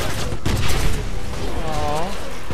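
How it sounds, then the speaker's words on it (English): A grenade goes off in the video game Wolfenstein, a loud broadband blast with crackling gunfire-like bursts that fades into a dense, busy wash of in-game noise. "I'll just throw the damn grenade over there"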